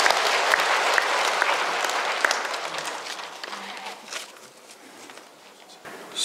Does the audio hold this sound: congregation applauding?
yes